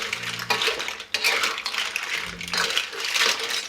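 Metal spoon scraping and clattering in a pan while cornstarch slurry is stirred into a black bean sauce for clams, with repeated close scrapes and clinks and no talking.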